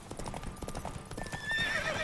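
A horse in The Witcher 3 gallops with steady clip-clop hoofbeats, then lets out a loud, shrill whinny near the end; no voices.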